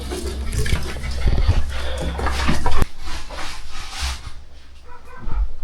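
Dogs scuffle and move about close by in Cyprus, with rustling, soft whimpers and an occasional thump over a busy, noisy background.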